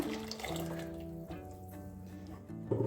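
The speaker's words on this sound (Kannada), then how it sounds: "ಸ್ವಲ್ಪ ನೀರು ಹಾಕ್ಕೊಳ್ಳೋಣ" Water is poured into a pan of ground masala while an onion gravy is being made, a continuous close liquid stream with a faint ringing tone, running alone for about three seconds.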